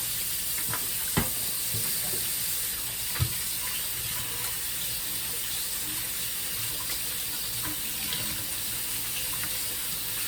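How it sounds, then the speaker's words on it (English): Kitchen utensils are washed under a running tap, with a steady, bright hiss of water throughout and a couple of faint knocks from the utensils. The sound is close, and no one speaks. "Make sure you wash the utensils."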